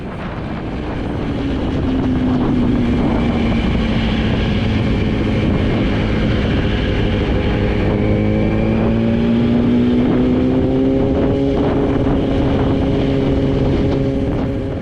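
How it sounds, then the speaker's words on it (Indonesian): Engine of a 2008 Yamaha R1 with an inline-four, 1000cc sport motorcycle, droning steadily and loudly throughout with rising and falling pitch sweeps, close by with wind noise over the microphone. "Yamaha R1 ini, terutama yang 2008 yang masih inline 4, yang mesinnya masih inline ya, segaris, dan suaranya seperti Moge inline pada umumnya"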